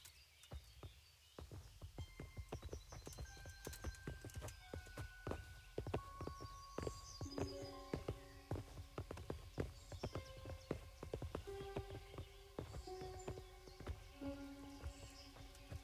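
Horse hooves in Kingdom Come: Deliverance clip-clop steadily on hard ground, a rhythmic walking gait, with light chiming tones and ambient music layered over the steps.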